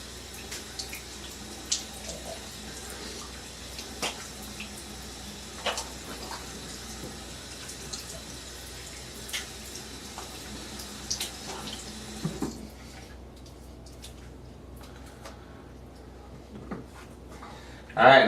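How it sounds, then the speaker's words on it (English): Water running from a tap as shaving lather is rinsed off a head after a razor shave, a soft steady flow with small splashes that quiets partway through, with a voice speaking faintly. "So let me rinse this off and pat dry"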